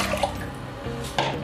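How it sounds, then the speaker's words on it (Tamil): Water splashes and pours briefly into a pressure cooker, close and fairly quiet, with a couple of louder gushes. "தேவையான அளவு தண்ணி சேர்த்துக்கோங்க."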